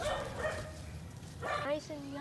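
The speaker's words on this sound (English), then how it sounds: "pardon our neighbor's dogs" Neighbor's dogs barking near a home garden, a few sharp barks and yips in bursts over a steady background while a person talks throughout.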